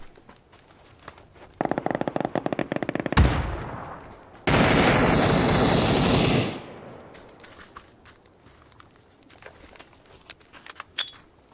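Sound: grenade explosions and gunfire in video game PUBG

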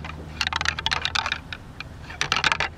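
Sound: deer antlers rattled together to mimic fighting bucks

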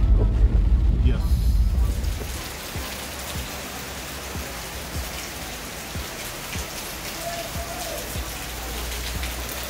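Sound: heavy rain falling in Dharamshala

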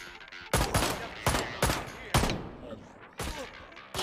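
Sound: gunfire from the video game Ride to Hell: Retribution

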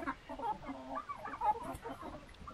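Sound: Cochin rooster clucking

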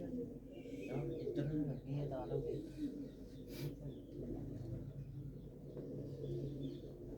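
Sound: pigeons cooing in a loft

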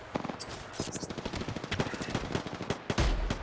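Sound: gunfire in the video game Apex Legends

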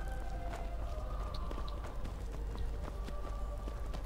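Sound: horse hooves approaching in Skyrim, video game

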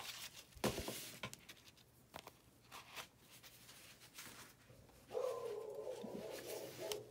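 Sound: dog barking

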